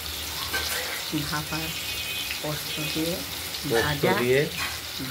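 Ash gourd slices stuffed with flattened rice, mustard and poppy seed paste frying in oil in a wok, a constant loud sizzle under a person talking through most of it.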